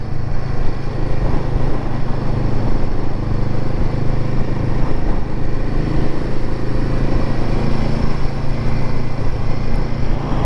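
A Royal Enfield Himalayan 450 motorcycle engine drones steadily and loudly while being ridden, a continuous close-up hum with no distinct breaks.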